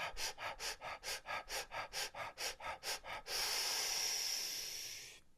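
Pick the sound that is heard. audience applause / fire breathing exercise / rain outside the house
fire breathing exercise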